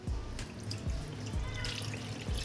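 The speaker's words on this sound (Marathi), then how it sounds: "आपण आता याचं वरचं पाणी निथळून घेऊ." Water trickles and drips as it is drained off settled maize starch for traditional kurdai, with a few soft low splashes recurring about once a second over a steady pouring hiss, close by.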